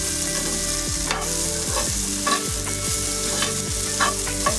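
Okra frying in a pan, stirred repeatedly until browned: a steady close sizzle with regular scraping strokes of the spoon roughly every second, no voices.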